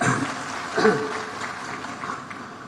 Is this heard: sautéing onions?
no